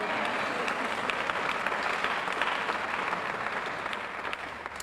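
Audience applause at an education leaders awards event, steady sustained clapping from a crowd that holds for several seconds and tapers slightly at the end.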